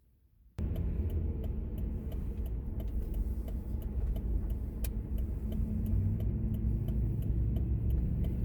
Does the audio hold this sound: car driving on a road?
yes